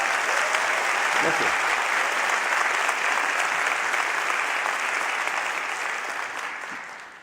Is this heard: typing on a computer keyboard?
no